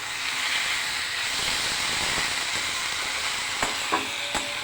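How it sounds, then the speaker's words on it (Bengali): Fish curry simmers in a pan after hot water is added, giving a steady soft hiss and sizzle with a few faint clinks, close and quiet with no talk. "এবার একটু কষিয়ে আমি এতে গরম জল দিয়ে দেবো পরিমাণ মতো"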